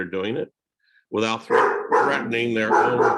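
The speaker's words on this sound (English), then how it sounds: "sorry about my dog" A pet dog barks in a few sharp bursts from inside a home, close by and fairly loud, mixed in with and briefly overlapping a man's ongoing speech.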